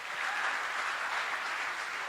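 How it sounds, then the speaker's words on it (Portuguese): Church congregation applauding during a worship service, a steady, dense wash of clapping that holds evenly for a couple of seconds without any voices. "Então dá uma salva de palmas"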